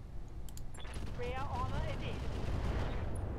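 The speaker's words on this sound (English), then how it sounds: "So let's just shoot him in the ass." Mech weapons firing at an enemy's rear in the video game Roguetech, a steady dense barrage of blasts with whooshing, rising tones of incoming fire, under continuous background rumble.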